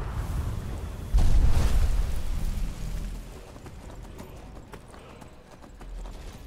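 Horse hooves clip-clop in the Skyrim video game, a steady rhythmic trot heard alone with a rumbling, rain-like background wash.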